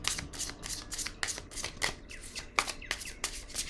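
Oracle cards get shuffled and drawn by hand, a quick run of crisp, papery riffles and flicks in uneven bursts, close and fairly quiet with no talking.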